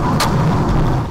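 Police fire gunshots at the wheels of a fleeing car driven by a drunk driver during a chase, a loud sharp crack followed by a heavy booming rumble, close and dense.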